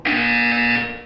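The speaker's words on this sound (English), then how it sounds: "You will hear a buzzer." A single flat electronic buzzer tone in the video game Portal 2, loud and steady for about a second before fading out, heard alone.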